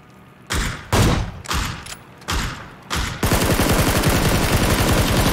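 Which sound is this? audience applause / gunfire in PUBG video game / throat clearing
gunfire in PUBG video game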